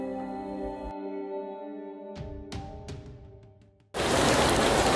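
Sustained musical tones fade away, then heavy rain abruptly starts pouring, a loud, dense hiss that continues.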